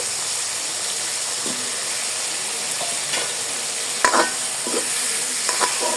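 Softened tomatoes and fried potatoes sautéing with salt and spices in a pan, a steady close sizzle broken by spatula scrapes and a cluster of louder metallic clanks partway through, with nobody talking.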